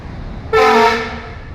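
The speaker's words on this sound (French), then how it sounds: "Et il klaxonne souvent pour rien, en fait." A vehicle horn sounds one loud, sustained honk of about half a second, close and harmonic, fading into traffic rumble on a street in Bao Loc, Vietnam.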